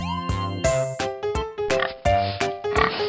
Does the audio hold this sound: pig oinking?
yes